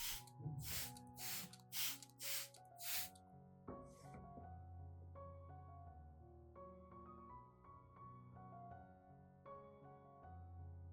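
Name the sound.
spraying liquid onto an orchid plant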